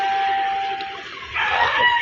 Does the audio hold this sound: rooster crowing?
yes